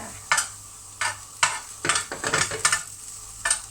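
Galangal, shallots and chillies are stir-fried in a pan for a salted-fish chili paste. Repeated bright scraping strokes of a spatula come at an irregular rhythm over a low sizzle, close and clear.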